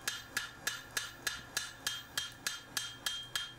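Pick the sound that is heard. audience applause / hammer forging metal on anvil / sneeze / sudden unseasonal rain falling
hammer forging metal on anvil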